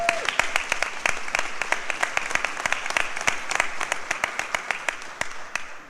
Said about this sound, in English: Let's give our scholars a round of applause.